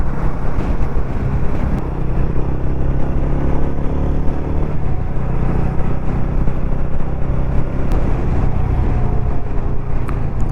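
A vehicle climbing the Tamhini Ghat road, a loud continuous engine rumble with steady road and wind noise throughout, close and unbroken.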